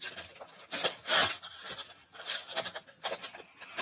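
A small paper surprise packet from a Mulan collection is torn open close up, producing a few bursts of rasping, crinkling rips over about four seconds.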